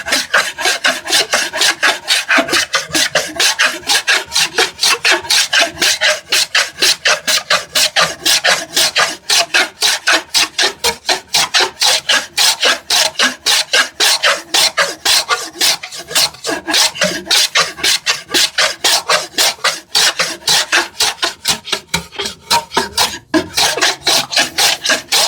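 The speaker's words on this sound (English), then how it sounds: "I'll just use my number 4 to create a bevel" A No. 4 hand plane shaves a bevel into a thick wooden board for a TV unit, giving a steady run of rapid, rasping strokes close up and loud, with no talking.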